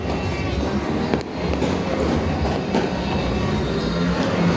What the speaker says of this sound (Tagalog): Kaya na, marami nagpaputok na.